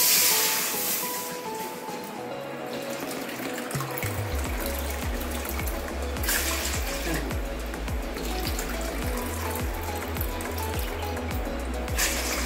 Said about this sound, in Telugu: దీంతో 3 కప్పులు వాటర్ పోస్తామండి